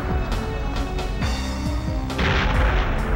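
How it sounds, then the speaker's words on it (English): Explosions and heavy blasts in the video game Perfect Dark, a rapid series of booming, gunfire-like bursts that build to a louder crash near the end. "Cool and looking at the explosion."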